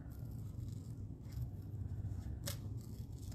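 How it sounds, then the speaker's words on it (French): Scissors cut paper for a handmade Stampin' Up! card, with a quiet snipping texture over low room noise and one crisp snip standing out near the end. "Je vais découper."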